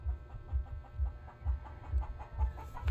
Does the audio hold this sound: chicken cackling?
yes